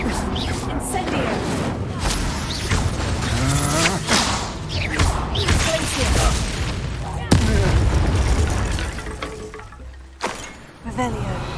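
Hogwarts Legacy battle with an Incendio fire spell, a loud whooshing flare and booming bursts amid continuous combat noise and impacts, with voices talking over much of it and a sharp blast near the middle.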